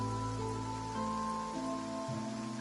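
Soft, steady rain falls in a video game, a continuous hiss layered over quiet tonal game music that shifts pitch in steps.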